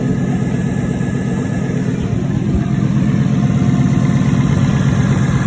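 A 2015 Ford Mustang GT engine runs at a steady idle after a water pump replacement, a constant low rumble with a faint hum, heard close and without talk.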